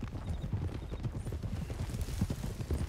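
Horse hooves clip-clop steadily in Red Dead Redemption 2, a dense, continuous drumming of several horses at a walk or trot, fairly loud and close, with a faint whinny in the mix.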